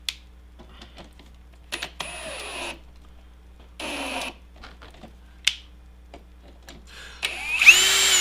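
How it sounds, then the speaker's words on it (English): Several short bursts of a power drill whirring, separated by quiet pauses, with a louder, higher-pitched burst near the end. "Not only am I screwing around, I'm drilling it."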